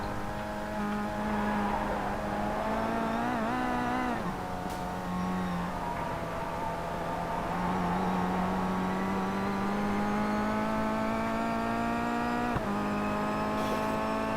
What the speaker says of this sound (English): Absolutely unique sound made by that Kia.